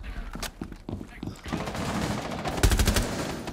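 Rapid bursts of automatic gunfire and single shots ring out in a shooter video game, loud and close, with brief gaps between volleys.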